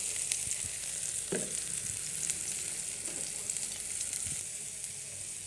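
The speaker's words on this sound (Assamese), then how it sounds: "বিলাহীখিনি অলপ গলি যোৱালৈকে এতিয়া মই এইখিনি ভাজি আছোঁ" Steady sizzling of tomatoes with turmeric frying in a pan close by, with occasional soft scrapes of stirring through the continuous frying hiss.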